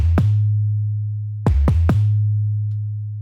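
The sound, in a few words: 808 bass notes played with cut itself enabled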